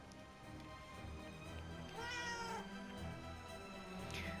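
A horned cat in the video game Forspoken meows twice, with a drawn-out wavering call midway and a shorter one near the end, faint against quiet game ambience.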